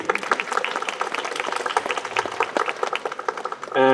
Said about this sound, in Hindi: इनके लिए एक बार जोरदार तालियां प्लीज़.